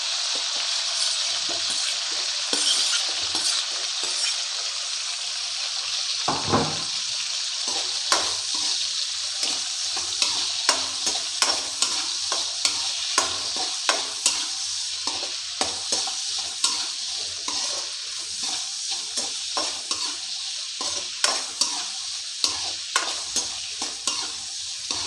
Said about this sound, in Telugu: ఇప్పుడైతే ఉల్లిగడ్డలు వేసుకుందాం.